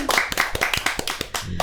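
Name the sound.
audience clapping hands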